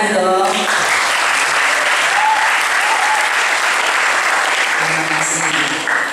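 An audience at a school fast-breaking gathering for orphaned students claps in steady, dense applause that lasts several seconds. The clapping is close and loud, and a voice speaks briefly over it.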